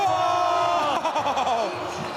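Crowd noise rising at the Red Bull Joyride slopestyle mountain bike event at Crankworx Whistler, a dense steady roar of spectators with a commentator's voice running over it throughout.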